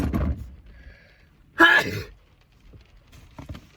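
A single loud sneeze bursts out mid-clip, preceded by a brief breath and followed by quiet shuffling and a faint murmur.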